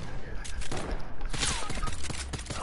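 A sniper rifle fires in a video game: sharp, fairly loud shot bursts punctuating a busy stretch of gameplay noise, with a voice talking over it.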